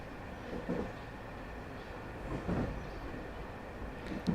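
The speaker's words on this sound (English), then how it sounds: "So I took a video on a train." A recorded train ride used as a homemade music sample: a steady low rumble of a moving rail car with periodic soft thumps from the wheels, fairly faint and even throughout.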